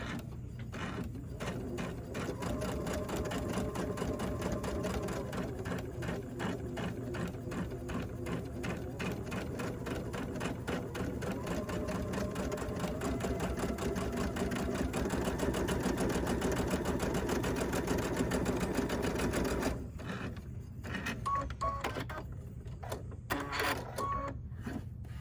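A sewing machine runs steadily for about twenty seconds, stitching a quarter-inch seam down the side of a fabric strip for a small Kimberbell pillow. A brief stop follows, then a few short bursts of stitching.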